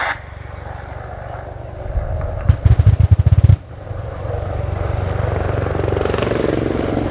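An Army Air Corps WAH-64D Apache Longbow helicopter in a flying display at RIAT, a loud continuous rotor and turbine roar with a rapid thudding burst of blade slap partway through, then the roar swells again.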